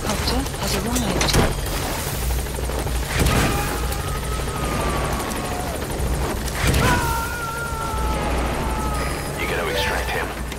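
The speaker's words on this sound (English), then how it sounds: "support helicopter has arrived." A support helicopter's rotor thrums steadily at a moderate distance in Metal Gear Solid V: The Phantom Pain, with heavy low rumble, several booming impacts, and a voice speaking over the din.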